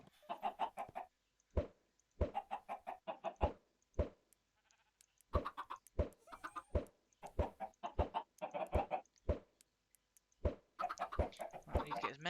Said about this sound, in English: we need to get as many chickens as possible in here